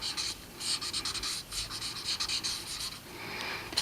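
Marker scratching across paper while coloring a corn drawing, with quick repeated rubbing strokes, close and fairly quiet, with no speech.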